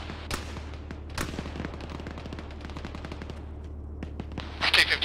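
Rapid bursts of machine-gun and rifle fire crack through a military video game battle, dense and repeated at mid distance, with a louder flurry near the end and faint voices underneath.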